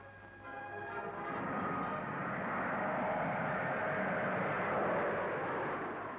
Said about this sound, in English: here in the Vickers Viscount is the first of its kind in the world